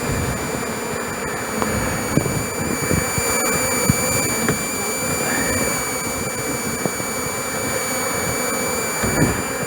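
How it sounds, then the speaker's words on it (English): A tub full of bees being dumped into a hive split, with dense, steady buzzing from many bees close by, with scattered knocks and thumps as they land in the box. "I'll just dump these bees in here."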